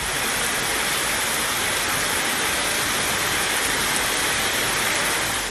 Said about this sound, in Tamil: நாகர்கோவில், வடசேரி, பார்வதிபுரம், ராஜாக்கமங்கலத்தில் திடீரென பெய்த மழையால் வாகன ஓட்டிகள் நனைந்தபடி சென்றனர்.